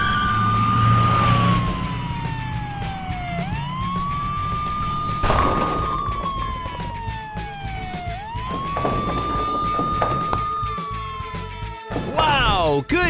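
A toy fire truck's electronic siren wails loudly and close, sweeping up and down in long repeated cycles over a rolling rumble, with a sharp clatter midway and a final crash near the end.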